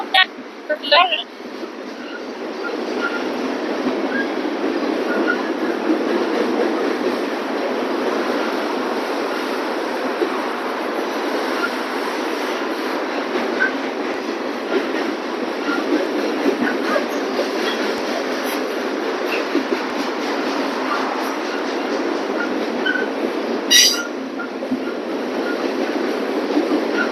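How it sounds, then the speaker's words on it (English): A Norfolk Southern freight train passes at night with a steady roaring wash of rolling cars, continuous and fairly close, while people talk over it now and then. "We almost missed this one. We were just getting ready to leave. I thought there was a train coming"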